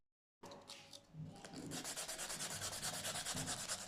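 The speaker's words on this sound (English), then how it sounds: "we need to sand it a bit so the glue can stick on there" Sandpaper scrubs a bicycle inner tube before a repair patch is glued on, a close, steady back-and-forth rasping that starts after a brief silence and builds into a fast, even rhythm of strokes.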